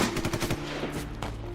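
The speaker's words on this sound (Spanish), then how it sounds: "Escuché disparos y explosiones provenientes del granero" A gunshot and explosion sound effect opens with rapid, close bursts of machine-gun-like fire. A louder blast follows near the end, and the gunfire gives way to a rumbling wash.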